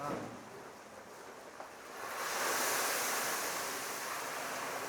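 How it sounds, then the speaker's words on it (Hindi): Marinated chicken fries in oil at a large wedding caterer's kitchen in Pune, a broad, steady hiss and sizzle that swells louder about halfway through and stays close. "उसे निकाल करके तेल में फ्राई कर रहे हैं।"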